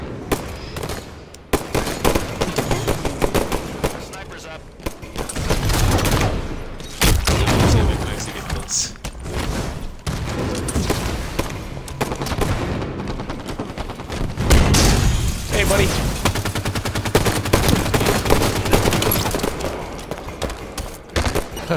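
Gunfire in the Halo video game, bursts of automatic fire and booming shots in dense, loud clusters with brief pauses, mixed with game sounds and occasional player chatter.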